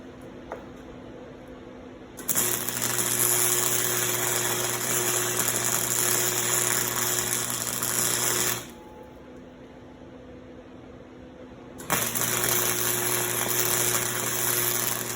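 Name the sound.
welding a heart chain necklace holder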